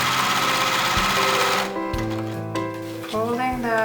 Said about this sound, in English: hand cranking so we don't have any accidents, sewing in the same seam